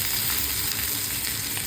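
Tempering spices frying hard in hot oil, stirred with a ladle while cooking in makeshift flood-displacement conditions, a dense continuous sizzle that is loud and close throughout.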